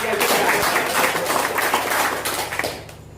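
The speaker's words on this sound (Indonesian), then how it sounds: "Ayo, tepuk tangan." Applause at an Independence Day program on a plantation: a loud burst of group clapping over a low hum, fading out toward the end, with some voices mixed in.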